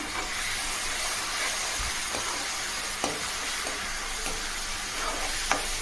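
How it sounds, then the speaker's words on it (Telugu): Onion paste fries in a pan with ginger garlic paste for boti fry, sending up a steady sizzle and hiss with a few faint scrapes and taps of stirring. "ఉల్లిపాయ పేస్ట్ కూడా బాగా దోరగా వేగే వరకు కూడా వేయించుకోవాలి"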